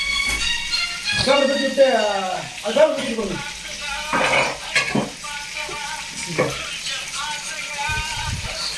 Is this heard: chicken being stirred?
yes